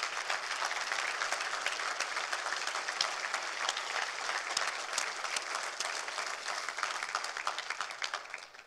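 A church congregation breaks into sustained, dense applause, a steady wash of many hands clapping together at moderate distance, even and unbroken for several seconds before tapering slightly at the end.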